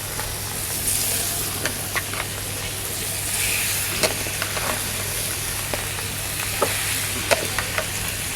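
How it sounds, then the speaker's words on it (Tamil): Prawns frying in hot oil in a pan, a steady close sizzle with small crackling pops throughout and no talking. "ஓகேவா எண்ணெய் ஊற்றியாச்சு நாம் எறாவை போட வேண்டும்"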